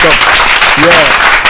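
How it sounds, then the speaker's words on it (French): A warm television studio audience bursts into loud, dense clapping, with voices shouting over the brief applause. "je vais demander à ce chaleureux public de Samedi Bonheur de faire un tonnerre d'applaudissements pour Frère Malcolm"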